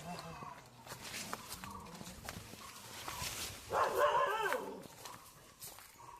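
A dog barks among chickens on a farm, a brief loud burst midway, under ongoing outdoor noise and a person talking nearby.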